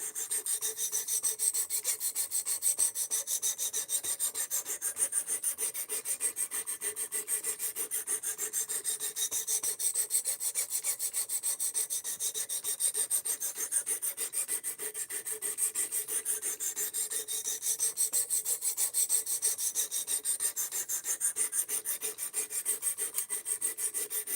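A D2 steel knife blade being sharpened: rapid, even scraping strokes repeat steadily and close up for the whole stretch, with no talking.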